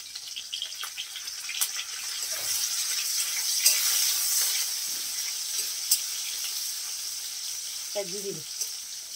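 Neem leaves fry in hot oil in a pan while a Bengali fish curry is being made, giving a steady close hiss and crackle, with brief clatter near the end.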